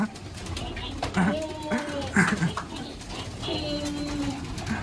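Pigeons in a loft coo softly, rising and falling in short bursts over a murmuring voice and background chatter, with a few sharper bird calls mixed in.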